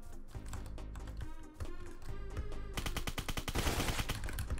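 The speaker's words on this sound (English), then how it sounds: "Do you hear this guy shooting outside of Ashland?" Rapid gunfire in the Roblox game Apocalypse Rising 2, a dense burst of sharp shots that grows louder toward the end over a steady game soundtrack.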